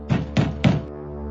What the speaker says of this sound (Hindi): तभी एक बार फिर से खटखटाने की आवाज आई।